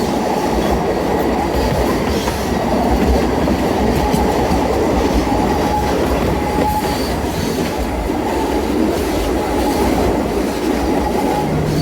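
Narrow gauge train on the Sargan Eight railway in Serbia, a loud, continuous rumble of wheels and carriages with rhythmic clatter and occasional wheel squeal, heard up close from on board.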